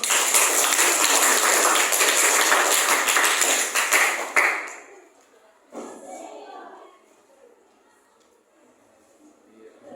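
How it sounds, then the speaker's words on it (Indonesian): A class of students bursts into loud, dense clapping for about four seconds before it cuts off abruptly, leaving a quiet room with faint speech afterward. "Tepuk tangan dong"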